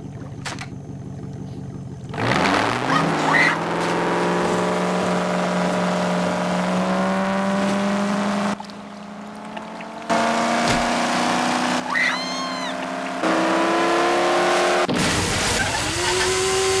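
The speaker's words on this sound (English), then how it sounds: "Leaf blower is nice." A running leaf blower drones with a sustained, fairly loud motor whine that rises sharply at start-up, holds steady with brief dips and cuts, then revs again near the end.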